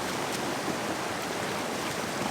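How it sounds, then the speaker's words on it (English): River water flowing steadily in the Scottish Highlands, a close, constant broadband rush with no voices over it. "I actually found a river and just had a wash in the river"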